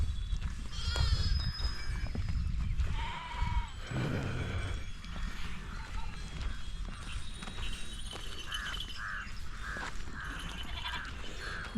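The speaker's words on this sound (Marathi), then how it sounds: "मामाच्या मेंढ्याचं दर्शन." A flock of sheep resting outdoors at a morning pilgrimage camp, with repeated bleats over a busy background of hooves and movement, near and fairly loud throughout.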